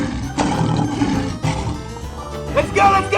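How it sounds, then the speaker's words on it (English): A lion in a 3D animal slide video game gives a rough, noisy roar that is buried in dense game music and effects throughout. "lion,"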